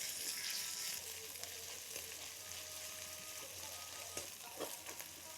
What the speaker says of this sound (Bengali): পেঁয়াজটা কিছুক্ষণ ভেজে নিয়েছি তারপরে আদা রসুন বাটাটা দিলাম